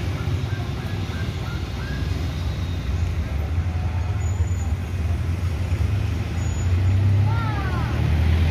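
Buses and cars stuck in a traffic jam on a road in West Sumatra, a continuous low rumble of idling engines with occasional faint squeals and brake hisses, no talk.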